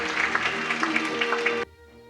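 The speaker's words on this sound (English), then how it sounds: "Let's greet him with a loud round of applause." An audience at an international children's peace art competition gives a judge a warm round of applause, a dense, even clapping that holds steady for over a second and a half and then stops abruptly.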